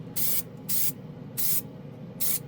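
Rust-Oleum low odor gloss black spray paint hisses out of the can in four short, even bursts, close and loud, with quiet pauses between them and no talking.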